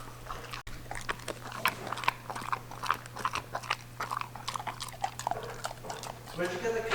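A border collie chews and bites at something close by, with irregular wet crunches and gnawing clicks over a low hum, and a person talks at points.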